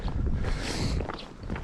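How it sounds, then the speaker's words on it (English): Blizzard wind roars steadily across an outdoor microphone on a frigid, snowy day near open water, a constant broadband rush with low buffeting rumble and no clear pauses. "It's an absolute blizzard out here today."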